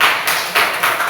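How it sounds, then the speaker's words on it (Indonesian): A classroom of students applauds a group, with bursts of clapping rising and falling in three quick surges, fairly loud and close, no talking over it. "Tepuk tangan buat kelompok 3."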